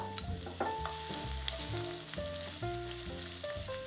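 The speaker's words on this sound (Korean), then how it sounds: "후라이팬에 올리브유를 충분히 두르고 양파를 먼저 볶아줍니다." Onions sizzle steadily in a generous amount of olive oil in a frying pan, a soft continuous crackle under prominent background music.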